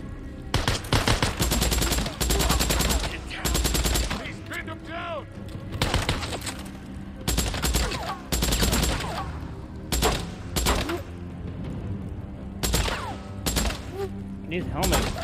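Video game gunfire in Days Gone comes as repeated bursts of rapid shots and single cracks, loud and close, broken by short pauses, with voices shouting in between.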